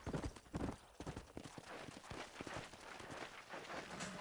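Rapid, uneven hoofbeats of a galloping horse in Red Dead Redemption, fairly close and continuous over a rushing background.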